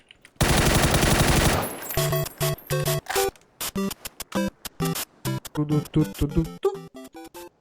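Loud, close automatic gunfire from a PUBG match on the Miramar map: a sustained burst at the start, then a long run of rapid, evenly spaced single shots and short bursts, with no talk over it.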